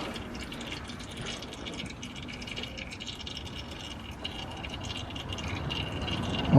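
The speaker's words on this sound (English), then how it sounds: "Let all that oil drain out." Engine oil trickles and drips steadily from an Infiniti Q50 during an oil change, a faint continuous liquid patter with occasional small rattles close by.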